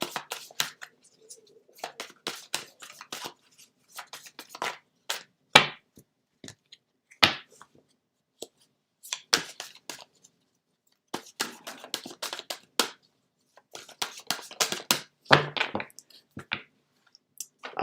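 Tarot cards being shuffled by hand produce close, crisp bursts of riffling, flicking and tapping that come in irregular clusters separated by short silences, with no talk.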